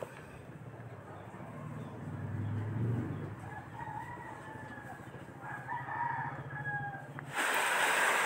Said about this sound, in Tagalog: May mga manok pa na tumitilaok.